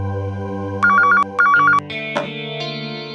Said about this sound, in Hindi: हेलो, वरुण के सेक्रेटरी गगन का फोन है।